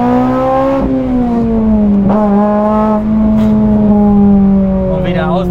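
A Honda Civic Type R FN2 engine revs up high and holds near the top of its range, with a steady, strong harmonic drone and brief gear-related dips, loud and close from inside the car.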